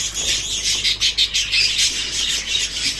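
Bengalese finches and other small finches chirp and call continuously in a breeding aviary, a steady bright twittering of overlapping high notes with no talk.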